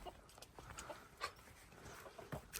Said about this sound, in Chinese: 斯文点啊，人家还有小狗。